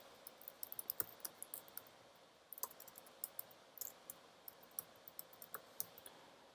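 A computer mouse clicks while requesting a token in Postman, producing faint, sharp clicks that come in an irregular string of about a dozen quick taps over quiet room background.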